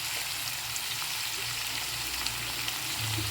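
Onions fry in a pan for a prawn and brinjal curry, giving a close, dense, continuous sizzle.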